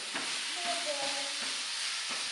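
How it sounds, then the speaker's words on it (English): Meat browning and being stirred in a hot pan makes a soft, steady sizzle close by, with a few utensil scrapes and a faint tonal whine across the short stretch. "just keep stirring, because this is gonna go very fast"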